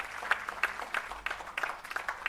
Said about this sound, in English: Could you keep the applause going, ladies and gentlemen?